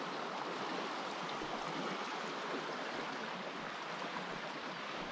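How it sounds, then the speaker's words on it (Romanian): River water flowing near Toplita, a steady broadband rushing and gurgling close by, continuous and even throughout with no talk. "Apă, nene. Apă."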